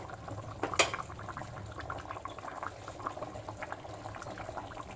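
Goat mutton simmering in a cooking pot, a steady soft bubbling with scattered pops and a brief louder clink near the start, close and fairly quiet with no talk.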